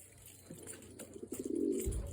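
Soft, low coos of young racing pigeons rise in a quick rolling series over faint background hiss, ending in a muffled bump nearby.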